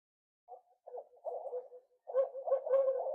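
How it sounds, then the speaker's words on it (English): Recorded owl hoots come from small speakers on a homemade OwlBot bird deterrent, a series of soft hooting calls in two groups, faint and fairly close, with no other sound. "the owl sounds coming from our speakers that we set up in part 2 of the OwlBot project"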